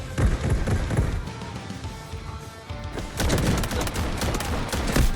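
Gunfire in the video game Delta Force, dense shooting and impacts building into a loud sustained barrage in the second half, with heavy thumps throughout.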